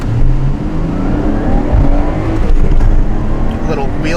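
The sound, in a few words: Nissan 180SX SR20 accelerating with wheel spin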